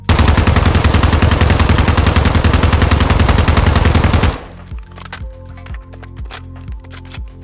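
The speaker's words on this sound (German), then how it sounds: "hier einmal das TYLR8 im freien Schuss" A TYLR8 firing unsuppressed in Warzone 2's DMZ mode: a loud, rapid automatic burst lasting about four seconds, then quieter mechanical clicks and thuds afterward.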